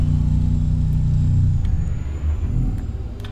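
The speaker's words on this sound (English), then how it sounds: "Let's get on my engine brake." Engine brake on a Freightliner FLB truck in American Truck Simulator, heavy hauling setup, a loud, low, continuous rumbling drone that stays dense and steady, shifting slightly in pitch near the end.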